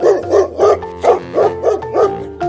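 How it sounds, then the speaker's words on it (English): A dog barks repeatedly in a steady rhythm, about eight loud, close woofs in quick succession with no other sounds around them. "How does the dog make sound?"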